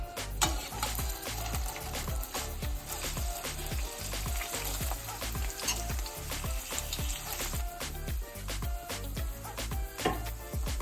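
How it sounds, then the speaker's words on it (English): Steady, crackling sizzle of cheese frying in a pan with a little avocado oil, loud and close, with a dense spray of pops and spits throughout. "Here we have the cheese in the frying pan. It's frying up."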